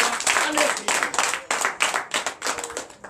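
A church congregation at a night deliverance and prophecy service claps hard and fast in a dense, continuous burst, with shouted voices acclaiming Christ mixed through the clapping.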